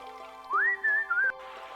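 A bird-call whistle blown in the video game Discworld, a single rising then warbling whistle lasting under a second over steady background game music.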